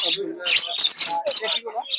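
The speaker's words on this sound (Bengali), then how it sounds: "ডিম বাচ্চা করা পাখি খামারের পাখি" Caged birds chirp and tweet in quick, bright, overlapping bursts, close and loud, at a bird and pigeon market in Putia.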